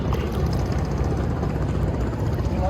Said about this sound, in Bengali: ওই আর একটা চলে বলো ট্রলার,